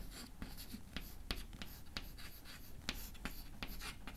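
Formulae being written by hand, quiet scratchy pen or chalk strokes with sharp taps and short scrapes in an irregular rhythm, faint and close with no talk.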